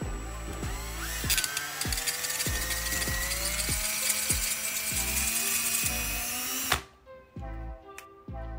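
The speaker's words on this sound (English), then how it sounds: "I'm going to try to drill out the rivets on the front" A power drill whines steadily at close range, grinding with rhythmic clicks as it bores out metal rivets on a failed Pass & Seymour/Legrand light switch, then stops abruptly near the end.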